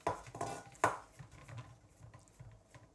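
Hands patting jowar thalipeeth dough flat, a series of soft, close, irregular slapping pats that get quieter toward the end, with no voices.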